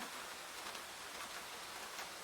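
Soft rain patters against window glass at night, a faint, even hiss of fine drops with no pauses and no voices.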